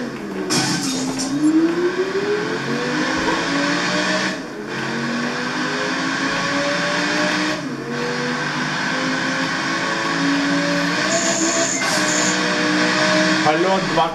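Engine of a BMW M5 E60 in a racing video game, a steady droning exhaust note rising and falling through gear changes across the whole stretch, loud and continuous with brief dips between shifts.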